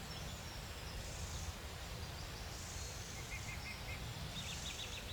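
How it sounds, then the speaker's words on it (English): Faint early-morning birdsong, scattered chirps and short repeated calls sounding at a distance over a steady hiss of ambient noise beside warm water. "You can hear all the birds all chirping"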